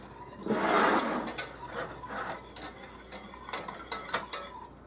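Hot cocoa mix and a little salt are stirred in circles in a pot with a metal spoon. Close, irregular scrapes and clinks against the pot follow one another quickly.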